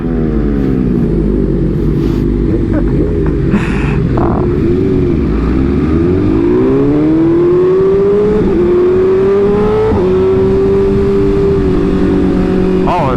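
Cars and motorbikes at a crowded biker ride event, their engines rumbling loud and close, with one rising rev that sweeps steadily upward over the continuous roar.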